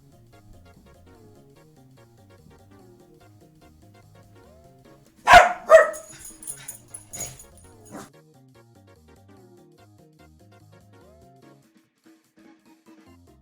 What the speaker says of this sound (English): He hears the dogs upstairs. He wants to bark too.